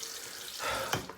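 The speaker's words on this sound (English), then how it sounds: "I'm going to add some more water to it." Tap water runs briefly to wet a shaving lather, starting as a short close gush about halfway through after quiet room noise and tapering off quickly.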